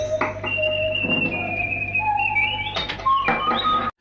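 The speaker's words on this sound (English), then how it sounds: "This primitive repeating whistling goes a long way for atmosphere." A repeating whistle tape loop plays as wavering, sustained whistled tones over a steady hum, with a few clicks and shifts in pitch, ending abruptly.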